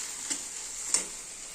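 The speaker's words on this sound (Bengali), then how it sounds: "আর এখানে চিংড়ি মাছ ভাজা হচ্ছে।" Shrimp fry in hot oil in a pan, giving a steady, fairly quiet sizzle with a couple of faint ticks as the pieces shift, and no voices.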